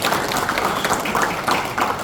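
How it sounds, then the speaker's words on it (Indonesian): Applause from an audience at a community assistance technical training session, a dense steady wash of many hands clapping for about two seconds with no clear pauses. "Kasih aplaus dulu"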